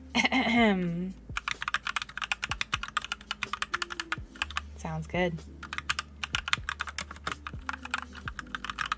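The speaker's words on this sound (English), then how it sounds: "Do a little typing on it." Typing on a newly built custom mechanical keyboard: a steady run of crisp, close key clacks with an uneven rhythm, preceded by a brief spoken voice at the start.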